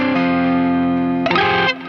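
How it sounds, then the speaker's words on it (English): Slightly crunchy distorted electric guitar, an Ibanez BER10, holding a sustained chord up close and loud, then a brief burst of strummed or picked notes before it cuts off. "where you, for example, have a slightly crunchy sound like this,"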